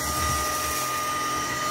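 Tineco A11 Hero EX cordless vacuum sucking up cat litter from a hard laundry-room floor, a steady close whir with a constant motor tone throughout.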